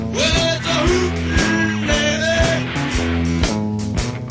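A band plays a rock song, loud and driving, steady drum hits under dense guitars, continuous throughout.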